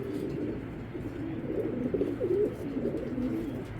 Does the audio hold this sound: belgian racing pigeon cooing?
yes